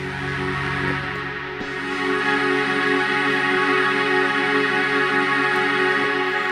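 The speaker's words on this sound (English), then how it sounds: "that's the Streichfett's playing" A Streichfett string synthesizer plays sustained, layered chords that drone steadily and swell slightly midway, with no talking.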